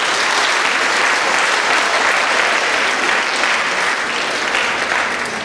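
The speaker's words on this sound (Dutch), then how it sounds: "Applaus voor uzelf voor dit event." A large audience at a closing event claps steadily, a loud, dense, even roar of applause from many hands that fills the whole stretch and fades slightly at the end.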